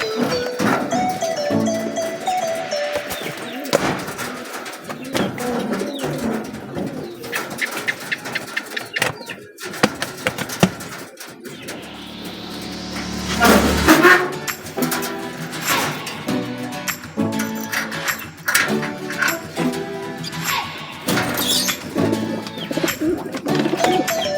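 Racing pigeons coo amid a busy, loud mix of rattling and mechanical noise, with clattering sounds and a rising whine partway through.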